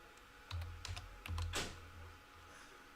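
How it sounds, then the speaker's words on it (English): Typing on a computer keyboard to enter a symbol into TradingView: a short burst of crisp, close keystrokes in uneven rhythm, then a brief pause, with no one talking. "Let me type this up on TradingView"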